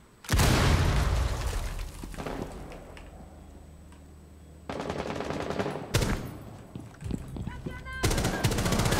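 Loud bursts of rapid gunfire in Rainbow Six Siege come in several separate volleys, with quieter game sounds between them.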